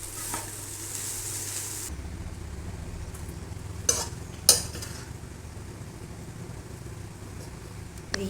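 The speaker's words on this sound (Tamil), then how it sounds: "இப்போ இந்த எக்கை போட்டு கிளறிக்கலாம்" Egg stirred and sizzling in a pan, cooked in ghee for a cabbage egg fry, with a soft steady frying hiss and two sharp utensil clinks against the pan.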